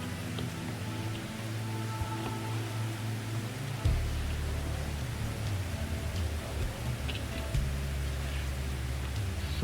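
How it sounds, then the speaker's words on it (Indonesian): Steady rain falls outdoors as a dense, even hiss with a low rumbling background, moderately far off and unbroken for the whole stretch, with no voices over it. "Kapan hujan ini bahkan berlalu ya?"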